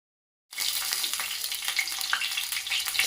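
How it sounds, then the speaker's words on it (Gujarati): Stuffed capsicum peppers shallow frying in oil, a steady broadband sizzle that starts abruptly after a short silence and continues evenly with small crackling pops, close and fairly loud. "શેલો ફ્રાય થતાં આ મરચાંને 5 થી 10 મિનિટ લાગે છે"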